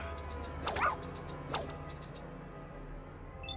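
Dog barks in Fallout 2 combat, two short sharp yips about a second apart over low game ambience, then quiet.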